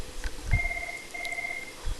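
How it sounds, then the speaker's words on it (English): A mobile phone ringing indoors, giving two short bursts of a steady electronic two-tone ring separated by a brief gap, fairly faint and set against a quiet room. "My phone is ringing."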